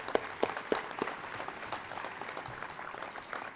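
Fairly faint applause at an adult and career education commencement ceremony, with a few distinct claps standing out at the start over a soft, distant spread of clapping from the crowd.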